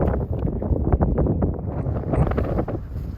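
Gusty wind buffets the microphone on the rugged South West coast path near Gurnards Head, Cornwall, a steady loud roar with rougher swells and low rumbling thumps throughout.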